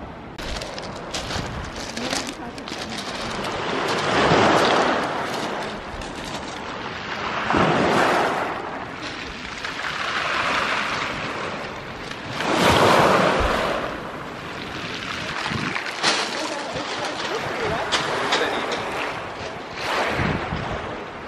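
Ocean waves wash onto a Spanish beach near sea caves, surging in repeated broad swells every few seconds with steady wind noise, fairly close and loud, no talking.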